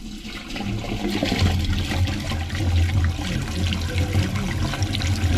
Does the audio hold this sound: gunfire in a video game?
no